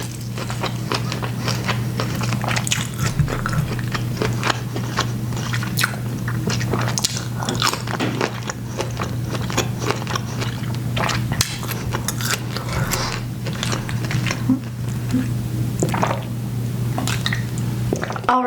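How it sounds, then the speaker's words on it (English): Close, wet chewing and squishing of a seafood boil seasoned with cayenne and black pepper, steady continuous mouth sounds over a constant low hum. "eating some seafood boil with me"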